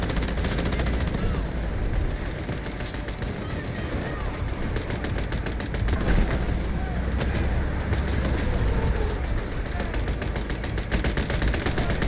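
A video game artillery barrage pounds on in a dense, continuous roar of rapid blasts and gunfire, with game voices mixed in underneath.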